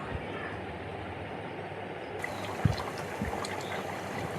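Water pours into a pot of cooking chicken and potato curry as a broad, rushing splash that runs steadily for several seconds, with a couple of sharp utensil knocks partway through.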